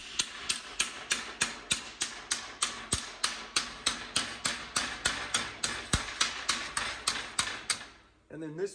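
An auto body hammer strikes sheet metal in a fast, even series of about two dozen sharp, close metallic taps, then stops at the end.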